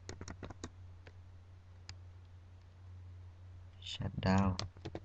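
A computer keyboard being typed on to enter a command, a few sharp clicks early on, then a quick close burst of keystrokes near the end over a steady low hum.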